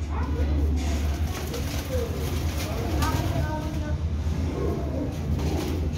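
Pigeons in Jhelum coo softly in the background amid steady low hum and rustling, while someone talks over them.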